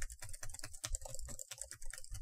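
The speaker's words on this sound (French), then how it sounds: "On m'entend très bien taper." Rapid typing on a computer keyboard, a close, clear clatter of quick irregular keystrokes with short pauses, heard alone without talking.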